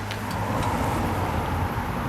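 A 1967 Jaguar 420G with triple carburettors idles steadily nearby, a smooth, even low rumble with no voices over it.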